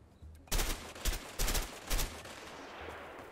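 Gunfire in a video game: four sharp, loud bursts of shots in quick succession, each fading into a short tail, followed by a quieter lingering background.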